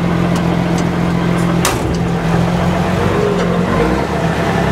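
An M35A2 deuce and a half military truck rolling downhill in crawler gear, its engine a loud, steady low drone close by with a faint knock midway, no voices.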